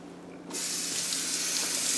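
Tap water starts abruptly and runs in a steady, close hiss over a fresh broccoli stalk being washed in a sink, with no talking.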